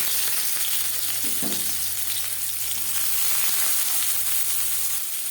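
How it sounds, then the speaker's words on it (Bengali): Steady sizzling of onions frying in hot oil in a wok, a continuous crackling hiss with a brief stirring scrape early on and a low hum underneath. "কড়াইতে আবারও তেল দিয়েছি এবার দিয়ে দেবো পেঁয়াজ"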